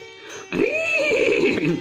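A person gives a loud, wavering whinny imitating a horse, rising then trailing off after a brief quiet start.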